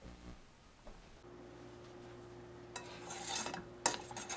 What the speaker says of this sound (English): Heat it up on a low heat and stir frequently until you get this liquid